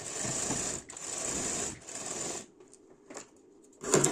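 A sewing machine stitches a blouse in a quick rattling run, pauses, then runs twice more in short bursts, followed by quieter handling clicks and a final sharp burst, close and clear.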